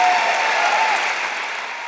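Audience applause during a talk podcast recording, a dense, steady wash of clapping that holds loud and even for two seconds before easing slightly, with no voices over it.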